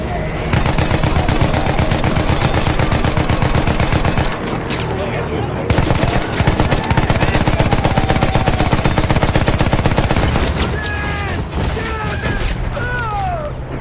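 Sustained heavy machine-gun fire and rapid gunshots in the Battlefield 1 video game during an airship attack, loud and nearly continuous with brief pauses, then mechanical whines and shouted voices toward the end.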